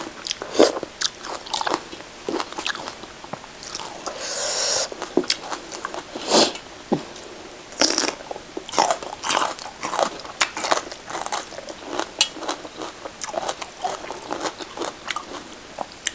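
Close, crisp crunching bites and steady chewing while eating Thai khanom jeen rice noodles in spicy nam ya pa curry with chicken feet and a tray of fresh vegetables, repeated irregularly for the whole stretch with no talking.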